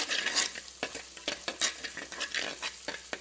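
Two stalks of green peppercorns sizzle in hot oil in a pan for a Kerala-style fish curry, with repeated stirring scrapes and clinks of a spoon against the pan, close and moderately loud.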